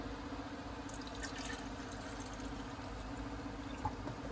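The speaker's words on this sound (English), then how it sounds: "So I pour 8 ounces of water in." Water trickling and filling a container with sea moss for gel, a steady soft liquid noise with faint drips, fairly quiet throughout.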